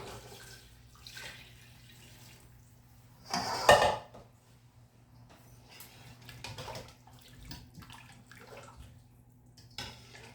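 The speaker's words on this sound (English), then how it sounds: "now I'm gonna add 5 more cup water." Water is poured into a pot of chicken curry soup with vegetables in a home kitchen: a short splashing pour of under a second, rising above a steady low appliance hum, then quiet stirring sounds.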